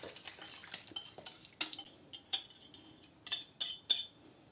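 A whisk clinking against a bowl while melted butter mixture is stirred into flour for homemade bread loaves, a series of sharp metallic taps and scrapes at an uneven rhythm.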